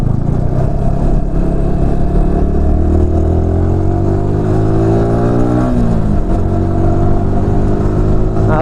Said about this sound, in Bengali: আজকে আমি বাইকটা পুরো কিন্তু টেনে টেনে চালাচ্ছি কিন্তু।